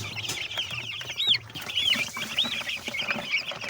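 Several twelve-day-old chickens cluck and squawk nearby in overlapping calls, with scratching and rustling in the background and no one speaking.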